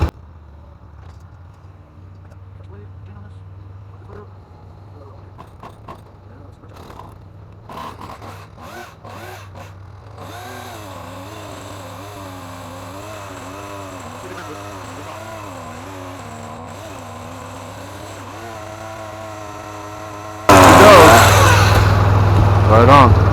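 Small power saw cutting a tree branch while clearing a lot for a new garage: the engine starts after some handling noises, idles with a wavering whine, then roars loudly near the end as the cut begins.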